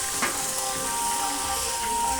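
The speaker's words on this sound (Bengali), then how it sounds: "রান্না বান্না চলছে" Food sizzles in a large festival kitchen set up under a dining pandal at a kirtan celebration, a steady, fairly loud frying hiss running unbroken throughout.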